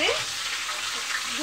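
Spices and slit green chillies sizzle steadily in a hot pan, a continuous close broadband frying hiss with no talk.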